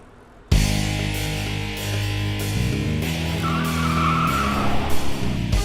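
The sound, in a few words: car turning with tires skidding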